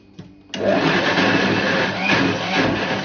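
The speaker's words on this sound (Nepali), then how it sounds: "अब चटनीलाई ग्राइन्ड गर्ने भनेर यहाँ गर्न लाग्छु।" A mixer grinder switches on after a brief pause and grinds cooked tomato, garlic and chili into chutney. The loud, close, whirring roar continues without a break to the end.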